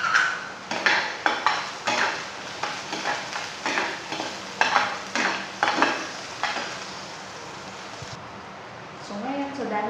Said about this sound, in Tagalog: So ilagay ko na itong bawang. So isunod ko na rin itong sibuyas.